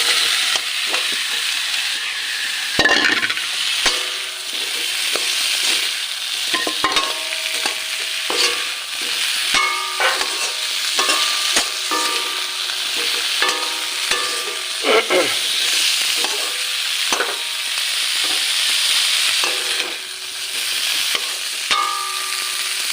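Potato pieces fry with a loud, continuous sizzle in a pan while a spatula repeatedly scrapes and stirs them, with irregular clattering strokes throughout.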